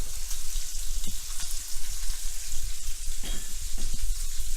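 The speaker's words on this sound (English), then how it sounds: "About 2 minutes until they get a nice brown sear on it." Chicken pieces searing in a hot pan, building a brown crust for a Basquaise-style French chicken stew, give a steady, loud sizzle with crackling spits and a few brief stirring or shifting bursts, no talking.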